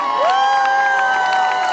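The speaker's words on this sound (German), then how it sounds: "die Mädels haben einen riesen Kreischen verdient" A crowd of girls cheering and screaming at a live show, a continuous high-pitched shriek that stays loud and dense throughout.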